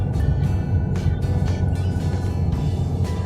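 A car engine straining as the vehicle climbs a steep mountain road lined with bamboo, a steady loud low drone with road rumble throughout, no talking.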